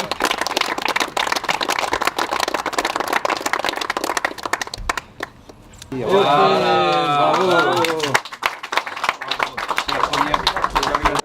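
An audience at a fire station inauguration claps in scattered, sharp bursts, with a voice rising clearly above the clapping midway before the applause continues.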